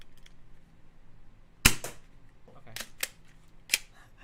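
An XFKO toy blaster test-fired once: a single sharp crack, followed by a few smaller clicks and snaps from handling the mechanism.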